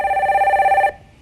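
A telephone rings once for the next caller on a Korean stock-advice call-in broadcast, a steady electronic warbling tone lasting under a second, close and clear, then cutting off.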